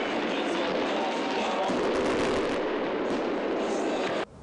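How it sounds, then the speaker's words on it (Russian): Celebratory fireworks salute at a football club's anniversary match, a dense continuous crackle of bursts and pops with crowd noise mixed in, loud and sustained until an abrupt stop near the end. "Торжественный салют заготовили не зря."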